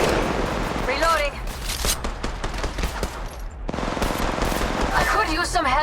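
Automatic gunfire in the mobile battle royale game Apex Legends Mobile: dense rapid bursts of shots fired close, pausing briefly then resuming, with game sound effects around them.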